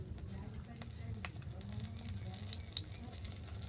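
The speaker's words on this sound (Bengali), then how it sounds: "এই তেলের মধ্যে শুকনো লঙ্কা ফোড়ন দিলাম" Dried red chillies sizzle in hot oil as a tempering for a spicy hilsa fish curry, a steady low frying crackle with faint pops throughout.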